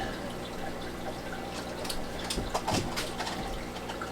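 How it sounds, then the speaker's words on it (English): Aquarium tank water being scooped, with soft sloshing and a few splashy drips and gurgles rising midway over a constant low hum of tank equipment, no talk. "So I'm just going to get some of this tank water"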